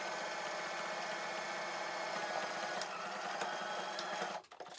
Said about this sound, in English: Make sure on this bit you're catching the top and the bottom of the fabric as well as you sew along.